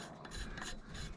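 Steady scraping and rasping as a mark is scratched onto the piece where a hole will be drilled, while building an umbrella holder; a close, continuous abrasive rub with no talking.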